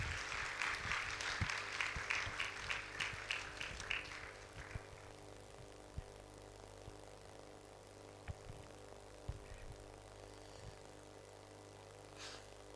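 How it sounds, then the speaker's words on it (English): Applause at a breast cancer awareness durbar welcoming a professor to speak, a faint burst of clapping over room hum that fades out after a few seconds, leaving scattered knocks. "With a warm round of applause, let's welcome Professor Martin Mona."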